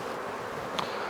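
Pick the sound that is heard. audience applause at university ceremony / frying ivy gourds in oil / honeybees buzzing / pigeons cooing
honeybees buzzing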